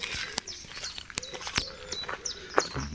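Birds singing in the trees of Wirral Country Park, with scattered short chirps and tweets close by, a few sharp calls standing out, and soft footsteps and outdoor ambience underneath.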